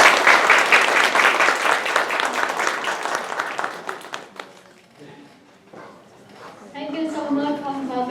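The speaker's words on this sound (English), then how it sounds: "Please give him one more round of applause." Loud, dense audience applause after a keynote at a data analytics panel event, sustained for about four seconds before fading into quieter scattered claps as a voice begins speaking over it.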